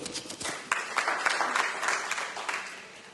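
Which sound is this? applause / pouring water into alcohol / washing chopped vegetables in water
applause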